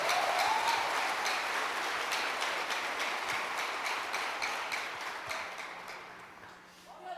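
A church congregation claps in a fast, steady rhythm, a dense wash of hands that fills the room and slowly fades toward the end.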